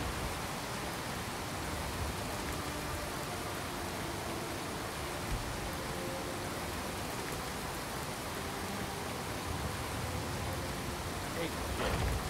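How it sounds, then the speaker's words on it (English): Steady, dense rain hisses throughout in the video game Skyrim, a constant heavy downpour with no change or break and no voices over it. "I really wish it would quit raining in my game"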